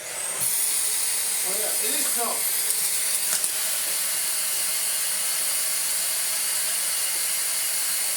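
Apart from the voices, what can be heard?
bagless vacuum cleaner running, clogged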